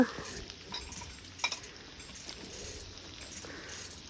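A spiced pickle mixture of cumin, coriander and mustard seed is stirred in a pan for gravy-style achar, giving close scraping and soft clinks of utensil on metal with brief louder knocks.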